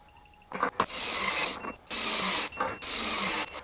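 A cordless sub-compact impact driver, Milwaukee M12, M18 or Ridgid, torques fasteners in close, loud bursts of rapid hammering, several separate runs with short pauses between them.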